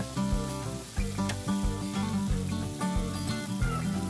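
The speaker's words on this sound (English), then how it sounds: "Do not cover the pan while frying the chicken, but ensure the chicken is not sticking to the pan." Chicken pieces fry uncovered in a pan for a Goan chicken fry, giving a steady sizzle with clinking and scraping from turning the pieces over, and no voices.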